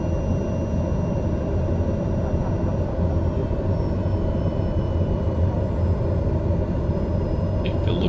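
A TBM 930 single-engine turboprop in Microsoft Flight Simulator takes off from runway 20 right at Santa Ana, its steady, loud engine drone and rumble continuous throughout with no talk.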